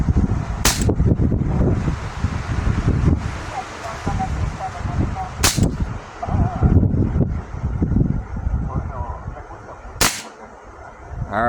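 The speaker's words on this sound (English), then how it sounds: "Might as well just empty it out on the brick" A 9mm pistol fires three loud, sharp shots a few seconds apart into a brick outdoors, with wind buffeting and low rumbling noise filling the gaps between them.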